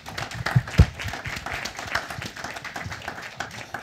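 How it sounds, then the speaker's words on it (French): Sparse, scattered clapping from a small audience at a talk about refugee employment, a few louder claps early then thin uneven patter. "On peut quand même les applaudir."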